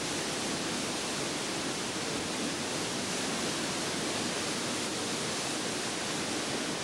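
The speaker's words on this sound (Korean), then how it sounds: "한여름에도 흰눈처럼 쏟아지는 비설폭포" Biseol Falls on Mount Myohyang pours in a steady, dense roar of falling water, loud and unbroken from start to finish with no other sounds.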